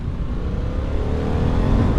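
A 2026 Harley-Davidson Pan America 1250 Limited motorcycle engine accelerates through the gears with a steady, loud, rising roar that builds continuously, with no talk.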